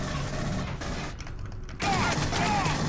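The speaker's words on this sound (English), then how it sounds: "Shotgun to the face!" Shotgun fire in the video game Aliens: Colonial Marines: loud, close blasts amid clattering mechanical combat noise, with a brief lull between bursts.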